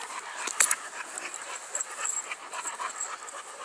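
Several dogs pant rapidly and whimper up close, breathy rhythmic huffs with small whines, no talking over them, as a new dog is settled into the household pack.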